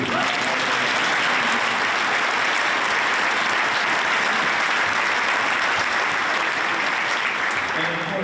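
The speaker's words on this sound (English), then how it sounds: "So, round of applause for MVU." Loud, sustained applause from a large audience at a school music festival, dense clapping that fills the whole stretch without a break.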